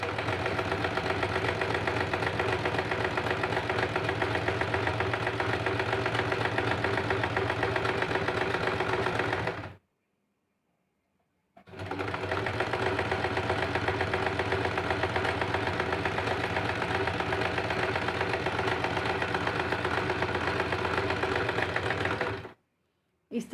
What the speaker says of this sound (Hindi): अब हम साइड से इस प्रकार से सिलाई करते हैं और अस्तर और ब्लाउज ज्वाइन करते हैं।